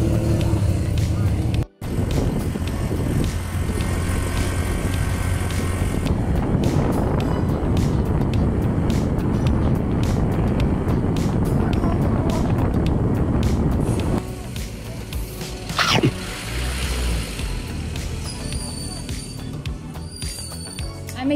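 Motorcycle ridden outdoors near Mayon Volcano, a continuous engine drone mixed with heavy wind buffeting on the microphone that eases toward the end, with a voice heard briefly.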